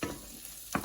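Onion frying in a pan for pancit bam-e: a soft, faint steady sizzle with a light stir near the end, brief and quiet with no talk.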